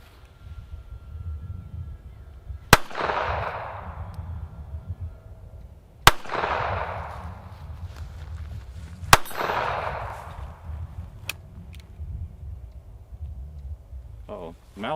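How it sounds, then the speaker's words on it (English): Three sharp pistol shots from a Sauer 38H fired at an outdoor range, evenly spaced a few seconds apart, each a loud crack with a fading ring, over low background rumble. "So Joel, would you like to shoot a 38H, a Sauer 38H for the first time?"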